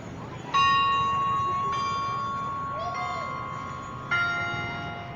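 A church bell in Antipolo, Philippines rings out in distinct, resonant strikes, each tolling and slowly decaying before the next, with faint background murmur.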